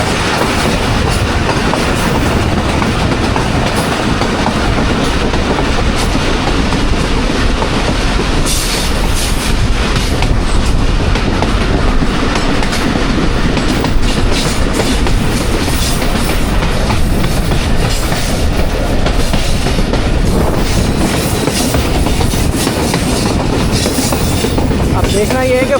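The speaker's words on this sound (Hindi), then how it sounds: "आप देख रहे हैं सामने ट्रेन नीचे की तरफ जा रही है।" The 13 UP Awam Express rolls down a gradient with a loud, constant rumble of wheels on rails and a steady clickety-clack, heard from on board throughout.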